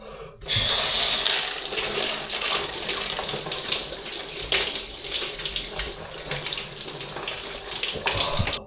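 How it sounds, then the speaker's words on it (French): Cold shower water runs steadily after a sudden start, a loud, close, broadband hiss and splatter that continues with small shifts as the stream hits a body and surfaces, with no talking. "petite douche froide, comme à mon habitude"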